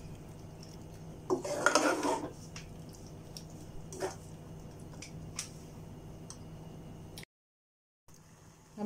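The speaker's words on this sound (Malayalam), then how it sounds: "എന്നിട്ട് നമുക്ക് നന്നായിട്ടൊന്ന് ഇളക്കി കൊടുക്കാം." A spoon stirs bitter gourd theeyal curry in a pot after water is added, giving a burst of scraping and sloshing followed by scattered clinks and taps against the pot, with a short silent gap.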